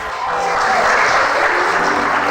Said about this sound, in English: Big round of applause for our world premiere.